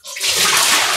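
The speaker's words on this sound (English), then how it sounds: "Pour out the water." Water poured out of a bowl into a sink while dyeing yarn with sugary sprinkles, a steady, close splashing rush that starts abruptly and runs continuously for about a second.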